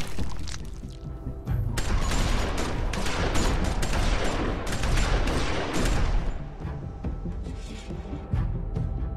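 Heavy gunfire in The Walking Dead Season 2 video game, a dense burst of rapid shots and thuds that stays loud almost without pause for about nine seconds.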